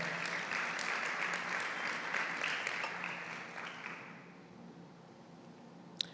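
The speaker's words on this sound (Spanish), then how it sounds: "Alguien déle un fuerte aplauso al Señor." Church congregation applauding, a dense, lively patter of many hands that swells, then fades away toward the end, followed by a single sharp knock.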